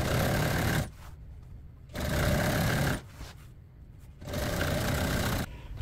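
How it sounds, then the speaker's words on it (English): A sewing machine stitches vinyl in three bursts of about a second each, a loud buzzing whir with short pauses between runs. "I sew another stitch right along the edge of these two materials right here"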